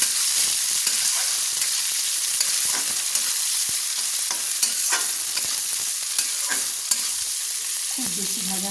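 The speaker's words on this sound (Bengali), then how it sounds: "নেড়ে নিচ্ছি" Chopped green beans fry in a pan for chowmein while being stirred, giving a steady loud sizzle with scraping and clinking of the spatula throughout and no talk.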